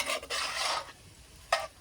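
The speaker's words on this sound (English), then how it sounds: "I'm just going to mix this up" A small spatula scrapes and stirs onions and peppered food in a cast iron Dutch oven, giving soft close rasping sweeps, one long scrape followed by a pause and a shorter stroke, faint and without talk.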